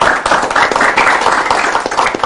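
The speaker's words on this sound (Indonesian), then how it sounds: "Tepuk tangan buat Kang Asdin." Audience applause at a company founders' event, a short burst of many hands clapping loudly and steadily from start to finish.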